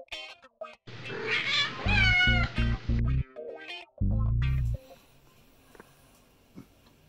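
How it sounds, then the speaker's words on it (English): A cat meows repeatedly inside a garage, giving several loud, drawn-out and somewhat strained calls close by, with a few short bursts and quieter rustling between them. "Cats aren't allowed in the garage."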